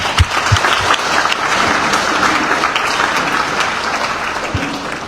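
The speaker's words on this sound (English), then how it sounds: "So let's give another round of applause." A crowd at an official launch event in Liberia gives a round of applause, continuous clapping with a few sharper near claps standing out, filling the whole stretch.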